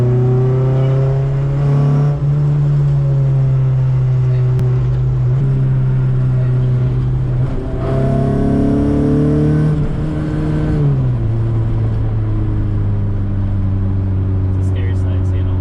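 An engine-swapped Honda Civic revs up past VTEC on a back road, a loud cabin drone that climbs, holds and drops as the driver shifts, with people talking over it throughout.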